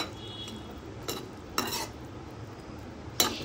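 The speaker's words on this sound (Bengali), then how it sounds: "দিয়ে ঝোলটার সাথে ভালোভাবে মিশিয়ে নেব।" Fried eggplant and puti fish stirred into a simmering curry, with a soft bubbling bed broken by a few clinks of a spoon against the pan, close and fairly quiet.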